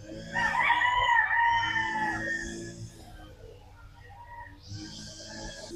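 Chickens and roosters calling at a poultry farm raising breeding stock, a loud burst of clucking and crowing up front that fades to softer fowl sounds before rising again near the end.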